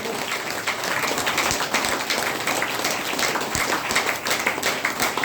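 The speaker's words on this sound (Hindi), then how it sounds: "आज इन शख्सियत के लिए जोरदार ताली होनी चाहिए" A crowded hall at a health training program breaks into sustained, dense applause for a doctor, many hands clapping steadily and loudly throughout.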